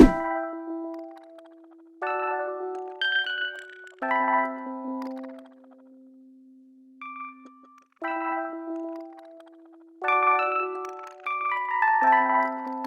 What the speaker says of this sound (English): this one shot has some kind of delay